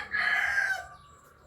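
A rooster at a rural Filipino barangay gives a single loud, close crow that holds steady before trailing off, with no talk over it.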